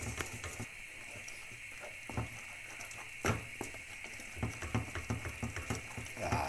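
Dough of melted butter, water and flour stirred in a pan for pommes dauphines choux pastry, giving soft irregular scraping and clicking strokes of a spoon against the pan, close and fairly quiet, with no talk.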